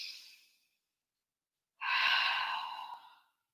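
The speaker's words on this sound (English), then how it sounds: "Breathing deep." Deep breathing during a yoga hang, a soft exhale trailing off, a second of silence, then a long, close, breathy inhale and release.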